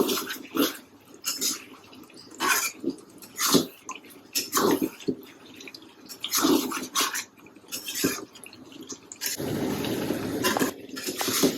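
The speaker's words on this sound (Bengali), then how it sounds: "এখন ঢাকনি উঠে নাড়া দিয়ে দেখি" A pot lid lifts off and a spoon stirs duck curry cooking in the pot, producing repeated scraping and clinking strokes and wet sizzling bursts, close and fairly loud with short pauses between movements.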